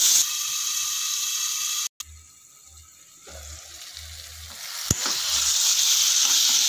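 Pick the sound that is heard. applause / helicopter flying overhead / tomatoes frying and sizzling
tomatoes frying and sizzling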